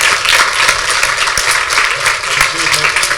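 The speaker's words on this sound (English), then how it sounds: "give him a huge round of applause" An audience at a union annual general meeting claps in a dense, sustained round of applause that fills the room, with voices heard faintly through it.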